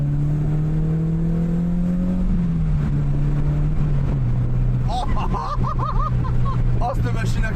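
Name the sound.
Peugeot 306 S16 car engine running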